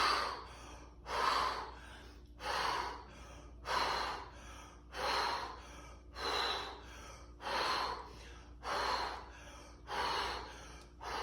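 Slow, rhythmic breathing during a hip mobility exercise, about nine strong breath bursts evenly spaced roughly every second and a quarter, close and clear with no talking.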